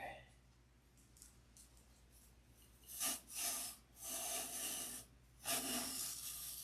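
A fine hand saw with 17 teeth per inch cutting on the flat, a few short, raspy strokes heard near and fairly quiet, with quiet gaps before them.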